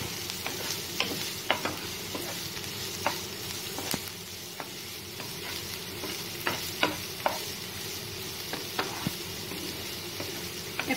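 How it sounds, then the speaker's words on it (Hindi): Chicken puff filling masala frying lightly in a pan, a steady low sizzle under repeated sharp clicks and scrapes of a spoon stirring, close and fairly quiet throughout. "हल्का जिहा फ्राई करांगे,"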